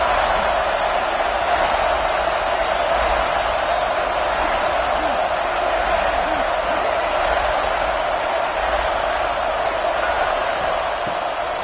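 Dense, steady roar of a packed football stadium crowd at a Nebraska versus Georgia game, loud and continuous without breaks, a broad wash of voices holding level throughout.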